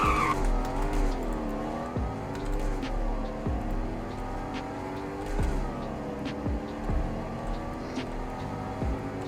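A car in the Greenville video game brakes hard with loud tire squeal and skidding over a steady engine drone, the squeals repeating several times up close.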